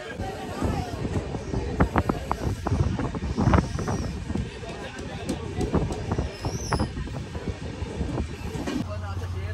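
Inside a moving passenger train bound for Mathura, the carriage gives off a rumble and irregular clattering thuds, with wind noise throughout and voices talking.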